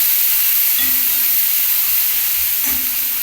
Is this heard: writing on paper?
no